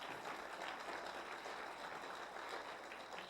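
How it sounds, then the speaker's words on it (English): A motivational seminar audience applauds a woman in the crowd, a faint, distant, continuous wash of clapping that holds steady throughout. "Give her a round of applause right there."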